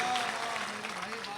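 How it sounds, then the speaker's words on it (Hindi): An audience in an assembly hall gives steady, even applause in a packed room, with a voice speaking over the clapping throughout. "मैं चाहता हूं पूरा सदन इस जैसी संस्था, इस संस्था के सम्मान में एक बार ताली बजाए"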